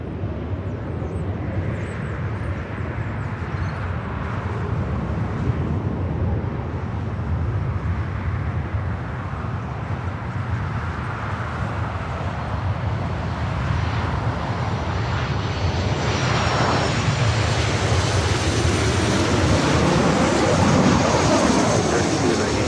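A passenger jet airliner taking off from LAX runway 24 left, its engines a steady, loud broadband roar that builds and brightens with a rising whine toward the end, heard alone without talk.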